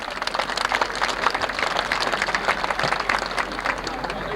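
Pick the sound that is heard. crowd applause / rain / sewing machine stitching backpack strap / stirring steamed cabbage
crowd applause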